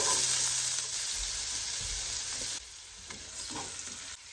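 Half a white onion sizzling in four tablespoons of butter for zuppa toscana: a loud, dense hiss that drops slightly partway through, with faint stirring knocks beneath and no voices.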